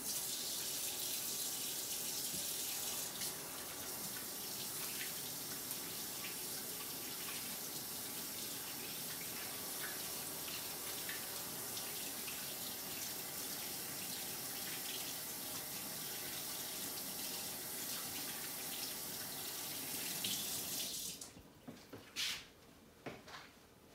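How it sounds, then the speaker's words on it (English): Tap water runs steadily into a kitchen sink while hands are washed, a continuous close splashing hiss for about twenty seconds, then the flow stops and a few clinks and knocks follow. "first step is we're gonna wash our hands."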